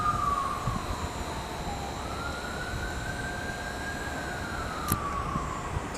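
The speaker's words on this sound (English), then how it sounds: "It's an ambulance." Ambulance siren on a Montreal street in the Ville-Marie borough, a wailing tone sweeping slowly up and down over steady traffic noise, moderately distant and sustained, with a brief sharp knock near the end.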